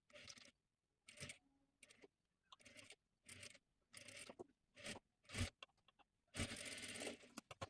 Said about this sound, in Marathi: इथे पूर्ण गोल आकारामध्ये शिलाई देऊन घ्यायची आहे